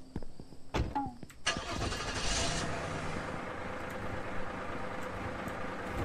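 A car engine starts up in the game Streamer Life Simulator, with a sharp crank and catch followed by a steady, fairly loud running rumble that holds for several seconds.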